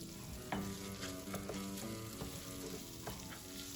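Rice toasting in argan oil in a pan for paella gives a steady close sizzle and frying crackle with scattered stirring clicks and scrapes, no talking.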